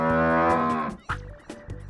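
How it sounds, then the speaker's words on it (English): One long, clear cow moo lasting about a second, followed by a few short knocking thumps, alone with no speech. "Cow."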